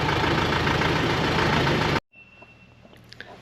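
A tractor engine runs loudly and steadily for a couple of seconds, then cuts off abruptly, leaving quiet shed ambience with a faint high whine and a few soft knocks.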